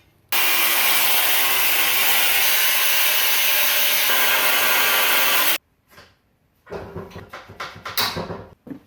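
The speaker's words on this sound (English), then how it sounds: "gotta start grinding this down" Metal being ground down on a Honda Accord subframe during a JDM subframe swap: a loud, steady, harsh grinding runs for about five seconds, cuts off, then gives way to scattered clanks and scraping handling noises.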